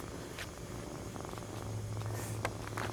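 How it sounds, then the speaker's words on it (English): A cat purring softly in a quiet indoor room, a steady low rumble, close but faint, with no talking. "You're a little purr monster, huh?"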